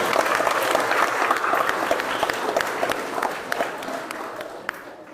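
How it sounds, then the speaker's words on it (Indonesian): Applause for the Santa Ana neighbourhood group at a Catholic Christmas Mass in West Papua: dense, fairly close clapping from the congregation that gradually thins and fades toward the end. "mari kita memberikan aplaus kepada lingkungan Santa"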